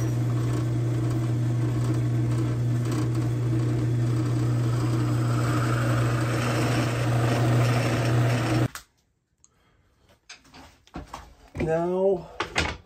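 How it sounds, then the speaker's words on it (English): A 3/4 inch countersink bit cuts holes in curly maple for a trade gun loading block, a steady droning machine hum for several seconds that stops abruptly, followed by someone speaking. "I set up my 3/4 inch countersink, and I'm gonna countersink these holes."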